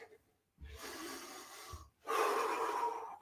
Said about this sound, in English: Going to try and control our breathing.